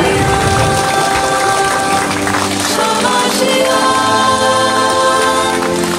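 Audience at a stage event claps loudly and steadily, a dense wash of applause from start to end with a brief swell near the middle, while music or tones sound underneath.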